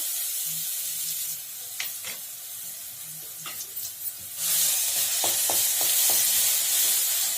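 Garlic goes into hot oil tempered with cumin seeds for a dry potato sabzi. A quiet crackle with a few clicks gives way midway to a sudden loud, steady sizzle that holds to the end.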